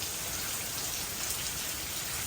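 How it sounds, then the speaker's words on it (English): Steady rain pours down on a rainy Sunday, a dense, even hiss of drops hitting surfaces, close and continuous for the whole stretch with no voices. "So this is what the rain is looking like for now"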